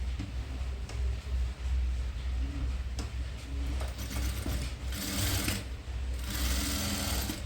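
Sewing machine stitching a full frilled long dress at a tailoring table, a continuous close mechanical whir with a rapid ticking needle rhythm, running steadily throughout with brief slowdowns and no talk.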